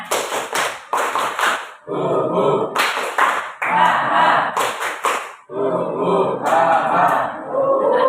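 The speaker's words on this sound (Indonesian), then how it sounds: "Tepuk Indian" A classroom group plays the Tepuk Indian clapping game, with sharp rhythmic bursts of hand claps alternating with loud chanting voices, close and energetic throughout.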